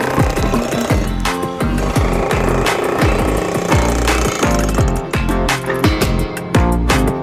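A Hilti Nuron TE 2000-22 cordless jackhammer breaking concrete: a loud, close, continuous rapid hammering with sharp repeated impacts and no pauses or talking.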